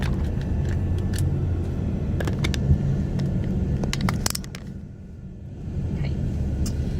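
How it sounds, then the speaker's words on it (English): Slow-moving road traffic in Atlanta gives a constant low rumble heard from inside a vehicle, with scattered clicks and crackles and a brief quieter stretch before the rumble resumes. "Traffic is moving super slowly."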